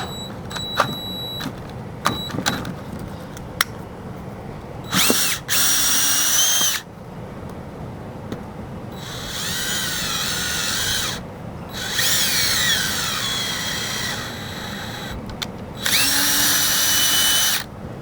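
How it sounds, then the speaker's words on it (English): Power drill whirring in several bursts, the motor revving up and down as it bores a hole through a pipe, with short pauses and clicks between runs. "Use it as a pilot, and then you can drill out the final hole."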